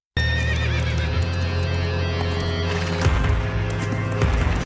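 A horse in an epic game trailer neighs loudly, then its hooves clop in a fast gallop, all set against a sustained orchestral backdrop.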